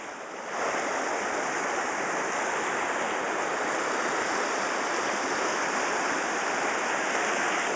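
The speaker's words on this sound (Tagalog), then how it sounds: "Paingon pa mi sa Spearfish Small Falls." Spearfish Small Falls waterfall gives off a steady, broad rushing roar of falling water that swells up within the first second and then holds constant and loud, with no voices.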